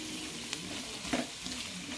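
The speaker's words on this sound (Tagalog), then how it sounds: "medyo iprito lang po natin ng konti sa butter" Soft, steady sizzling of chicken fillet frying in butter in a pan, with a few faint clinks and stirring sounds, close by and quiet.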